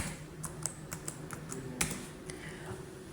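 Keys clatter on a computer keyboard as a word is typed into a document, a short irregular run of crisp taps with one sharper keystroke, close and fairly quiet over a faint hum.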